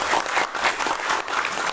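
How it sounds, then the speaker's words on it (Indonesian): An audience at a New Star Leader recognition event claps loudly and steadily, with a dense burst of close applause filling the moment. "Berikan aplaus yang meriah kepada beliau."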